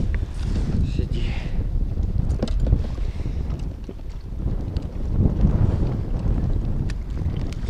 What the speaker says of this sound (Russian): Ветер сильнейший. Просто нереально.